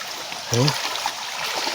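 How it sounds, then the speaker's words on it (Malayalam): Floodwater surges with strong force across a submerged river and road, a steady broadband rushing wash that fills the whole clip, with a brief voice sound cutting in near the middle. "ഭയങ്കര ഒഴുക്കോട് കൂടിയാണ് വെള്ളം വരുന്നത്"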